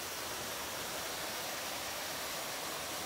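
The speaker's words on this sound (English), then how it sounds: "The waterfall." A steady, even rush of falling water at Queen's Bath on Kauai, Hawaii, heard fairly faintly and alone as unbroken broadband hiss.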